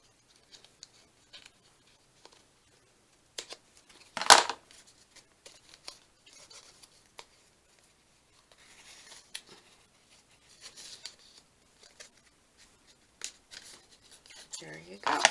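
Scissors give sparse, small snips and scratchy handling noises as tied string is trimmed on a junk journal, faint and close, with one sharper crisp cut standing out and another near the end.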